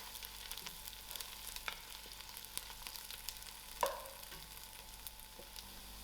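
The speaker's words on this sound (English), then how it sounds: "I'll give this a few seconds to fry out." Black pepper frying in a pot as the base of a spicy lamb stew, a faint, even sizzle with a light clink or stir partway through, heard alone without voices.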